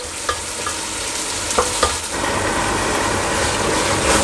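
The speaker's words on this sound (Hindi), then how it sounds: "सब्जियों को 3-4 मिनट तक मैंने पका लिया है।" Potato and carrot pieces fry in a pan for vegetable biryani, a steady loud sizzle with a few clinks of a stirring spoon early on, the sizzling swelling and continuing alone.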